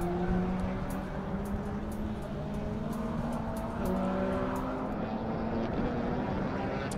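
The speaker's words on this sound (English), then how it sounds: "Kimi Chi in that Porsche Boxster," A Porsche Boxster race car pushed hard through a run of S-curves on the Circuit of the Americas, its engine droning steadily and shifting pitch throughout, mixed with other track noise.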